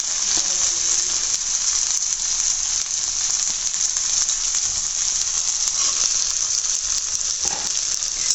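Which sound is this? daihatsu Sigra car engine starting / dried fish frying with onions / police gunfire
dried fish frying with onions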